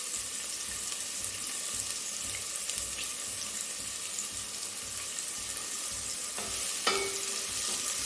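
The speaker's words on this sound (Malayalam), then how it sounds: "സവോളയും പിന്നെ പച്ചമുളകും കൂടി ഇട്ട് കൊടുക്കാം" Sliced onions and green chillies with a pinch of salt sauté in a pan for a Kerala kadala curry, giving a steady close sizzle and hiss throughout with a brief scrape near the end.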